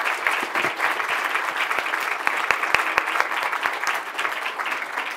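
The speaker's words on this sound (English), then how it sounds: "I want a big applause for my panelists." Audience at a panel discussion applauding the panelists, a dense burst of clapping from a moderate crowd, sustained and fairly loud, with sharp individual claps standing out near the middle.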